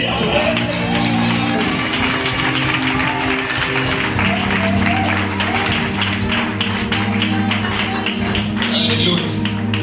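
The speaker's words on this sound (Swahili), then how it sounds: "Nahitaji mtu mmoja mwenye imani alete makofi kwa ajili ya Bwana." Church congregation clapping for the Lord during a sermon, a steady run of rhythmic handclaps lasting throughout, with crowd noise, voices and music beneath.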